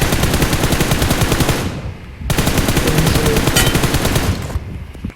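Rapid automatic gunfire from the mobile shooter game PUBG Mobile, with dense bursts of shots that stop briefly before resuming, then tail off near the end.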